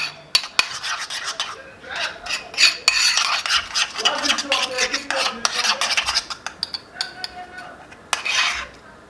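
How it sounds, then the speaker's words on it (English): A spoon stirs cinnamon roll mixture with pecans and brown sugar in a bowl, making close, loud scraping and rubbing strokes in an irregular rhythm, with a few sharper knocks and no speech. "And I'm just going to mix this up."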